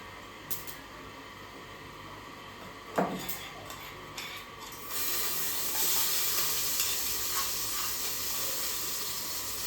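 Crushed ginger, green chili and garlic with masala hit a hot pan and break into a steady sizzling hiss that swells halfway through, with a few light clinks of utensils before it.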